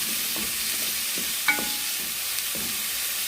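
Shallots and garlic fry in a hot pan for a large Ramadan meal, a soft continuous sizzle broken by several distinct scraping stirs of a utensil against the pan, up close.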